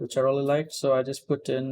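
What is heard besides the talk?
No everyday noises stand out.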